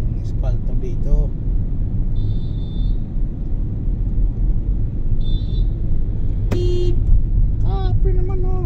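Car horns toot several times in busy road traffic over a steady engine rumble, with a few short honks spread across the clip and people talking over it.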